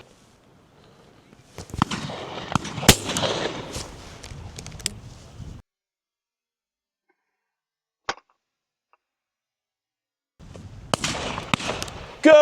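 Shotgun shots ring out at a pheasant and partridge shoot. A loud burst of sharp reports comes first, then a single distant crack after a quiet gap, then another cluster of bangs.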